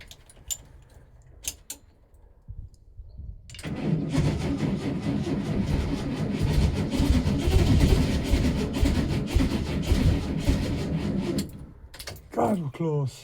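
Air-cooled VW Type 2 engine cranking, then catching and running roughly for several seconds after a timing tweak before cutting out, loud and steady in a garage, with a few clicks before and after.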